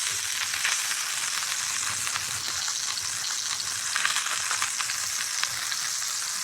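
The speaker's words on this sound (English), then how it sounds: "We'll go ahead and put my butter in. Again, it's going to reduce that temperature. Add my thyme, my garlic." Butter, thyme and garlic sizzle and fry in a hot pan alongside a beef short rib, a steady close, dense crackling hiss with small spits and pops throughout, no talking.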